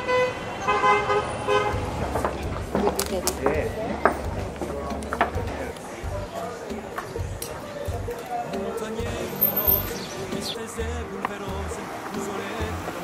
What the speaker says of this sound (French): le klaxon c'est qu'il y a un mariage